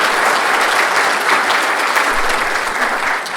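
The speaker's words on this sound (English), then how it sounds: "So how about a round of applause for them?" A conference audience applauds at an industry trends opening session, a loud, continuous crackle of many hands clapping close by that stays even from start to finish, easing slightly at the end.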